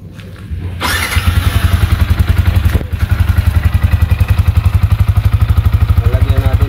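Yamaha Sniper 155 VVA motorcycle fitted with an Espada exhaust pipe, loud close engine revving up then settling into a fast throbbing idle with rapid even exhaust pulses and a brief dip midway.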